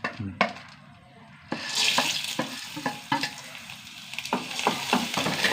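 Urad dal frying in a little oil in a pan, starting quiet and then bursting into a dense crackling sizzle, with sharp spoon scrapes and taps falling irregularly over it, close by with no speech.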